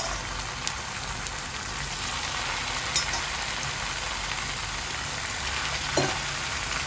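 Oyster mushrooms fry in masala in a pan for sippi kalan thokku, giving a steady, close sizzle throughout with a couple of faint scrapes from stirring and no voices.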